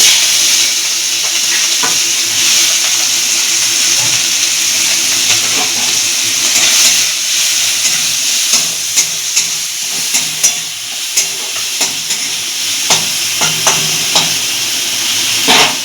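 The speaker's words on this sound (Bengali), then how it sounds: "তেলটা গরম হলে তবে আমরা চিংড়ি মাছটার মধ্যে ছাড়বো দেখুন তেলটা আমাদের গরম হয়ে গেছে হ্যাঁ, চিংড়ি মাছটা ভেজে নেব" Prawns fry in hot oil in a home kitchen pan, a loud continuous sizzle with bursts of hiss and occasional clicks of stirring, close and unbroken by talk.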